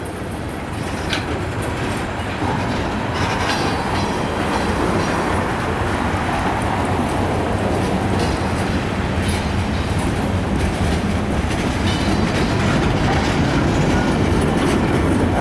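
A heavy CSX mixed freight train rumbles past on the rails, loud and continuous, with rhythmic clatter of wheels throughout.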